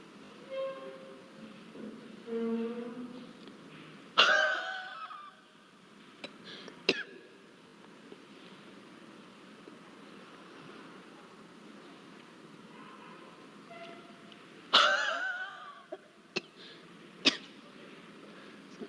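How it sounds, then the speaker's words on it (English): Two forced huff coughs demonstrated in a cystic fibrosis breathing-exercise session for clearing airway secretions, each a sharp breathy burst followed by smaller throat noises, spaced about ten seconds apart with quiet room tone between. "now I am going to demonstrate you the technique of huff coughing"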